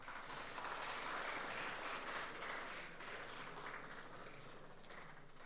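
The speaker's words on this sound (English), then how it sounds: "A huge round of applause, please." Audience applause at an academic felicitation ceremony at NIT Rourkela, a faint, steady wash of many hands clapping that continues evenly throughout without any voices on top.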